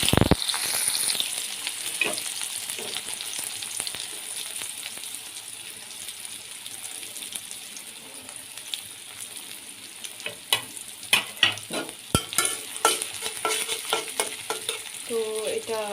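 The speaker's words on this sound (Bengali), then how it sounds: "এখন আমি এতে পেঁয়াজ কুচি আর কাঁচামরিচ ফালি করে রেখেছি, এগুলো দিয়ে দেব ভাজার জন্য।" Chopped onion and green chillies dropped into hot oil in a wok, an initial loud hiss settling into steady sizzling, later broken by scraping and stirring clatter.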